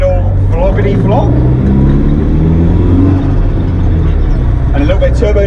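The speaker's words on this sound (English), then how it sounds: "And a little bit of turbo noises" SR20DET-engined Datsun mini truck running loud and close, the engine droning and whirring with a rising pitch from the turbo, while a voice speaks briefly at the start and again near the end.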